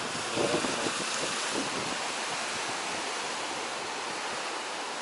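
Broad, continuous rush of Baltic Sea surf breaking along the shore at Svetlogorsk, with wind gusting across the microphone; steady and fairly loud, no talking.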